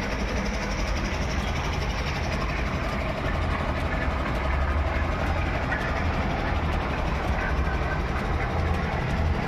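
A train moving with a steady, loud rumble of engine and rolling stock, continuous and close, with no voices.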